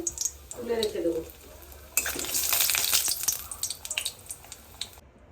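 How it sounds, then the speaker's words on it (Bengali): Lentil dumplings (bori) frying in hot mustard oil in a wok, with bright sizzling and crackling that swells after a soft start, broken by scattered spoon scrapes and taps, then fades into lighter fizzing. "কড়াইতে তেল গরম করে নিয়েছি সর্ষের তেল দিয়েছি আমি কড়াইতে এরপরে কয়েকটা বড়ি ভেজে তুলে রেখে দেব"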